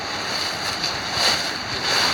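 A creek flows beside a stone wall along a forest hiking trail near a swimming hole, a steady soft rushing of water heard alone at moderate distance.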